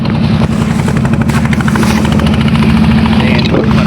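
A loud fishing trawler engine drones steadily at full throttle on a river while setting nets, a constant low rumbling throb with no pauses.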